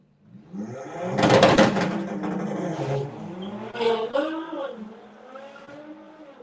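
An Audi TT and a GTR launch down a drag strip at a run-what-you-brung event, a loud burst of engine roar and tyre noise fading as the cars pull away, with a voice talking over it.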